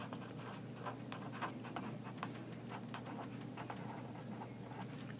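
A marker writing on a board: quick squeaky strokes and taps in an irregular rhythm, close and fairly faint over a steady background hum.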